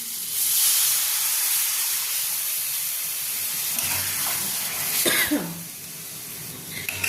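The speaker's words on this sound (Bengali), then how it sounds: "এবার আমি এর মধ্যে খুব অল্প পরিমাণ একটু জল দিয়ে দিচ্ছি।" A small splash of water hits a hot pan of sizzling masala prawns, loud steady hissing steam that swells and crackles near the end before easing off.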